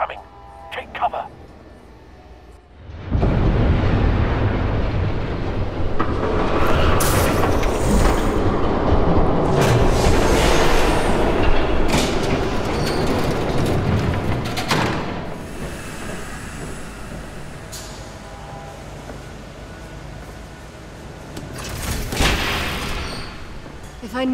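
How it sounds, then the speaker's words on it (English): In the Batman Telltale Series game, Episode 3, a train thunders past as a loud, sustained rumble with heavy booming surges that runs for about twenty seconds, with characters talking over it. "There's a train coming."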